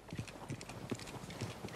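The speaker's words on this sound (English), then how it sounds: "let's wait for Javier and Lenny. They're coming down with the horses" Horse hooves clip-clopping in an uneven trotting rhythm as horses approach in the video game Red Dead Redemption 2, fairly close and clear, with no one talking.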